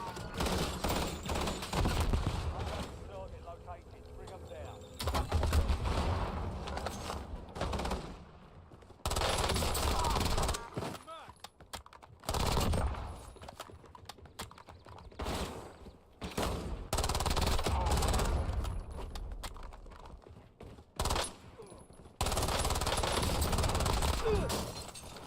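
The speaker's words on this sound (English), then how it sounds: "We need these guys to stop shooting at us for a minute." Enemies unleash rapid gunfire in the video game Warzone. The bursts are loud and come and go in long stretches, broken by short lulls, with occasional talk in the background.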